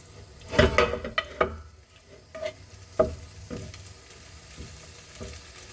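Cooked beef sukiyaki for a Filipino beefsteak dish sizzles softly in a pan as a utensil stirs it, with several sharp clacks against the pan early on, then quieter scraping and frying.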